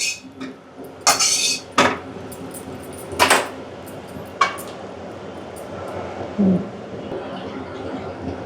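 Noodle masala frying in a pan is stirred with a utensil, giving several sharp metallic clinks and scrapes spread over the stretch against a faint background.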